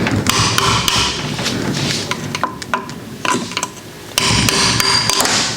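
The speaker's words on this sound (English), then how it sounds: "oh Tyler, you can't hit a seal with a claw hammer" A claw hammer strikes a transmission seal during a teardown of a 700R4 gearbox from a 1989 Chevrolet 1500, a series of sharp metallic bangs in irregular bursts, loud and close, with no voices.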